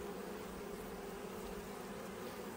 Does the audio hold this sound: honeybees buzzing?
yes